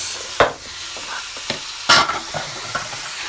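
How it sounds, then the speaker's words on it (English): Marinated tofu and Brussels sprouts frying in hot sesame oil in a wok, a steady sizzle broken by a few sharp spatula stirs and clatters, close and fairly loud with no talking. "when the oil is hot, you add the marinated tofu and the"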